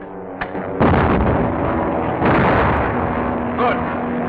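Gunfire volley in an old Dick Tracy serial, several sharp shots and booming blasts over a loud, constant noisy background.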